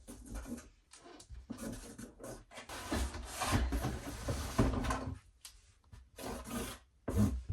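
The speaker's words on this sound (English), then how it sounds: "So I'll put this in a wee drawer somewhere so I have it on standby." A small wooden drawer in a bedroom slides and rubs open and shut, with close, continuous scraping and a few knocks over several seconds and no talk.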